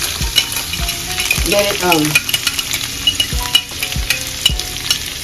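Vegetables sauté in a hot pan with a steady close sizzle, punctuated by regular scraping and knocking of a utensil as they are stirred.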